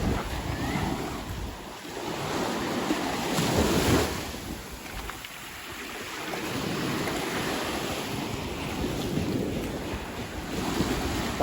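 Sea waves wash onto the beach at Kung Wiman, Chanthaburi, a steady surging roar that swells and recedes under heavy wind buffeting the microphone.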